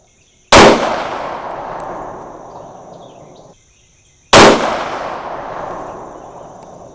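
.308 rifle shots loaded with 168-grain Speer Gold Dot bullets and IMR 4064 powder, two loud, sharp reports several seconds apart, each followed by a long, fading rumble of echo.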